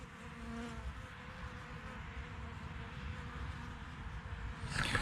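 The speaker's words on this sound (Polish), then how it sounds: "pszczoły na wiosnę robią tak zwany pierwszy oblot i one czyszczą wtedy ul." Steady low buzzing from many honeybees around a hive on an early spring flight, continuous and fairly quiet, with a brief louder rustle near the end.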